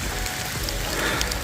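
Steady rain falls across a mountain hiking trail on Mount Manglayang, a dense continuous patter of drops with no voices.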